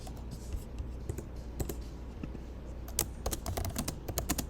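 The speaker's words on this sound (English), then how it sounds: "I'm typing at the top and Bella is typing at the bottom" Two people type at the same time on computer keyboards, giving a steady patter of soft key clicks with sharper taps bunching toward the end. The typing sounds close and sits over a low background hum.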